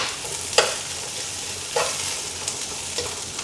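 Garlic sautéing in a pan for chicken arroz caldo, a steady sizzle with a few sharp scrapes of stirring spaced through it, close and fairly loud, no voices.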